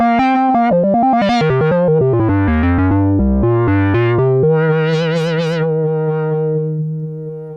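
A Moog Sub Phatty lead sample looped in the basic sampler engine of an Arturia Microfreak plays a melodic run of synth notes, with the filter opening and vibrato on key presses, settling into one long sustained tone, loud and alone.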